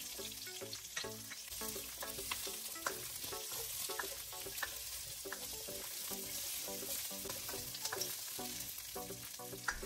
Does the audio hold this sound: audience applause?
no